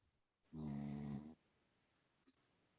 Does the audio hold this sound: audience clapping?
no